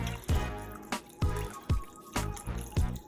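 Stock is poured into a pot of oxtails in a home kitchen, heard as a series of separate splashing drips and glugs spaced at irregular intervals, fairly close and moderately quiet.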